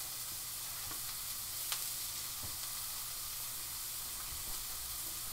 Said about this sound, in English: more oil, onions in. There we go. Yeah, onion. Saute that off.